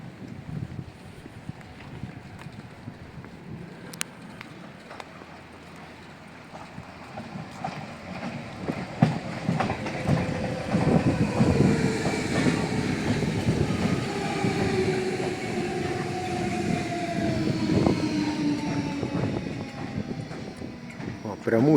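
A new Copenhagen tram rolls past on its rails. A low rumble and wheel squeal build from quiet to a sustained, louder passage in the second half, and voices are faintly audible.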